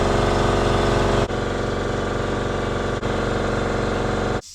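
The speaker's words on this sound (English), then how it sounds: "That air compressor kicks on randomly like that" A workshop air compressor running loud and close, a steady droning motor hum with brief dips in level before it cuts off near the end.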